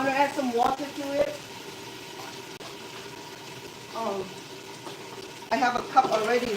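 Water boils and sizzles in a pot for pork sparerib spicy soup, a soft steady bubbling hiss running beneath a person talking in short bursts.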